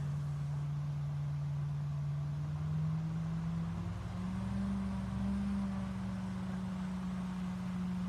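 An electric hovercraft lifting and moving off, a steady loud motor drone with a low hum that shifts slightly in pitch as it rises, continuous and alone without talk.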